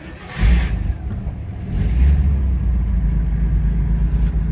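A Rolls Royce Silver Shadow engine cranking and catching, then settling into a steady low idle close by, with a brief rise in revs and no talking.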